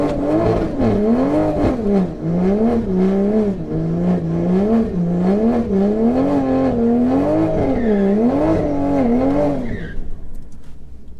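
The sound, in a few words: Stage 3 760hp Toyota Supra accelerating on drag strip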